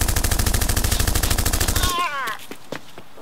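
Rapid machine-gun bursts fire in a fast, even rhythm for about two seconds in a comedy sketch, loud and close, then cut to a few scattered clicks, faint voices and a fading tail.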